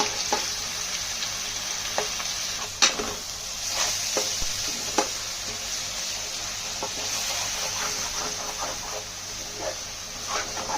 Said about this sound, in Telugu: వేసి బాగా కలపండి ఇది కొంచెం ఎర్రగా వచ్చే వరకు వేపండి